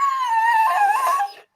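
A dog howls in one sustained, wavering cry that slides up and down in pitch and whines at the end before cutting off, close and fairly loud with no voices over it.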